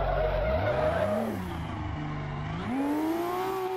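Turbocharged Nissan 350Z in a racing video game, its engine rising and falling through revs with pitch sweeps and tire skid noise, loud and continuous without talk.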